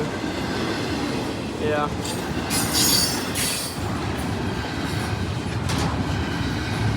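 A CSX freight train rolls past close by, a loud continuous rumble of railcars with wheel squeal and rhythmic clatter throughout, and a brief voice heard over it.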